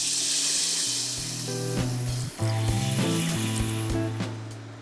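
Beef broth poured into a sizzling pan for Salisbury steak, a steady loud hiss and sizzle of liquid hitting hot fat, with a low tonal hum running underneath, no voices.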